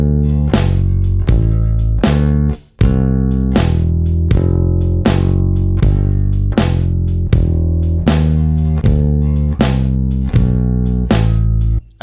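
A full 12-bar blues turnaround on electric bass, a descending major-scale line from the fifth to the root, played as a continuous run of evenly plucked notes with one brief gap near the start. Loud, close and solo, with no voices.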